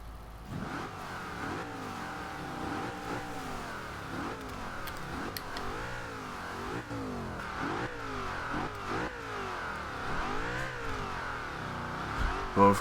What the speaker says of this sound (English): Just nothing but engine plus the twin turbos get thrown into the mix there.